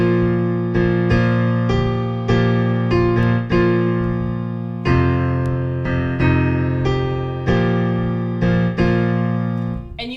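Piano plays the first line of the hymn Christ Arose as syncopated open-fifth chords, sustained harmonic blocks re-struck in a steady rhythm, loud and close with no voices.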